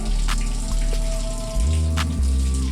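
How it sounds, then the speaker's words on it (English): Running water splashes steadily as shampoo is rinsed from hair through a do-rag, a close, loud shower-like spray with a few brief drips and shifts in the flow. "You're going to rinse out the shampoo through the do-rag so you can keep the waves in place."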